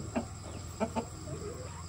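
A large, glossy-feathered rooster gives three short, quiet clucks, one early and a close pair about a second later, over a soft background hum.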